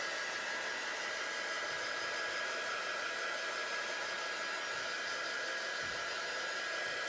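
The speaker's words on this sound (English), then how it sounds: "I'm just going to continue to heat set this" Heat gun running steadily to set glitter on a chalk stencil sign, a constant close-up blowing whoosh with a faint high whine and no talking throughout.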